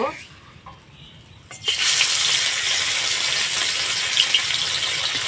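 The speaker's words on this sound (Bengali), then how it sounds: "আমার তেলটা গরম হয়ে গিয়েছে আমি এবার মাছগুলো দিয়ে ভেজে নেব" Parshe fish drop into hot oil and set off a sudden loud, broad sizzle that holds steady after a quieter opening with some faint clatter.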